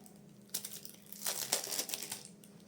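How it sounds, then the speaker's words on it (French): Plastic wrapping crinkling and tearing as a deck of Escape the Dark Castle board game cards is unwrapped, close and fairly quiet, in short rustling bursts over a couple of seconds. "On va déballer un peu les cartes pour voir"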